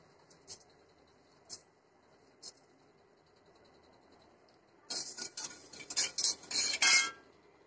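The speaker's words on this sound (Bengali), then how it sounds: "আমি এই মশলাগুলোকে কাঠখোলায় ভেজে নেব" Coriander seeds dry-roast in a clay pan over low heat, with a few isolated light taps, then a burst of rapid rattling and scraping as the seeds are stirred close up.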